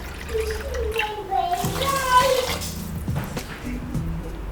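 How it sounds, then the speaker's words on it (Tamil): Water poured from a cup onto two cups of rice in a pot, a steady gurgling splash that runs the whole moment, with a voice speaking over it. "அதே 2 கப்புக்கு நான் தண்ணி ஊற்றிக்கிறேன்"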